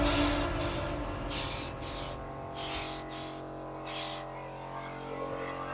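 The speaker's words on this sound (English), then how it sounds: "The paint is going on nice and evenly" Car wheels for an Audi B5 S4 are spray painted in short repeated bursts, each hiss lasting about half a second, close and loud, with a low background hum between bursts.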